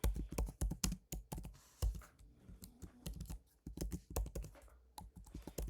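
Rapid, uneven keystrokes on a computer keyboard while code is written in C++, crisp clicks close up with short pauses between bursts, no voices.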